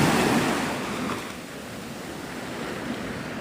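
Surf rolls onto the shore at Navarre Beach in the Florida Panhandle as a steady, broad wash of breaking waves, loud and close, with wind noise over it and no talk.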